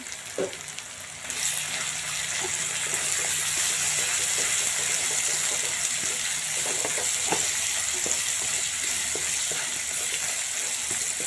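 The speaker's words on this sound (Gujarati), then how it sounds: "મસાલા આપણે સરસ મજાના શેકાવા દેવાના છે." Continuous sizzling of spices roasting in a hot pan with frequent scraping stirs and soft clinks, steady and close with no voices.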